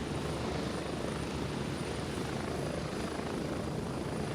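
A helicopter in a video game drones in a steady, loud rotor and engine wash, a constant close roar with no break across the whole stretch.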